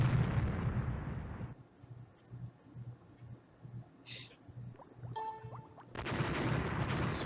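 A torpedo strikes a ship in the naval strategy game Rule the Waves, set in a battle as Japan; a heavy rumbling blast opens and fades into low murmur, then a second broad explosion swells near the end, with no talking.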